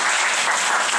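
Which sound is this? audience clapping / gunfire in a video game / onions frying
audience clapping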